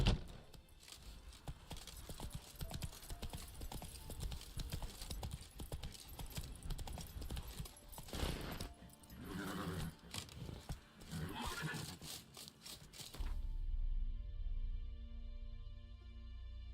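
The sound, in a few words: horse galloping hooves in the video game The Witcher 3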